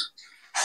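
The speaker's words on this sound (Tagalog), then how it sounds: "pasensya na doon sa aso" A dog gives a short bark in the background while hydraulic disc brakes are installed on a Trek Marlin mountain bike, with a quieter opening yelp and a louder burst at the end of the brief clip.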